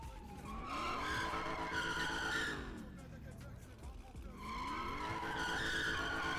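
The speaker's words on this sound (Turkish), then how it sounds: "Lastik ne kadar ısınırsa oyunda o kadar güzel kayıyor." Tires squealing and skidding in a racing video game as the car slides with warmed-up tires, two long screeching slides with engine drone, loud and close, a brief dip between them.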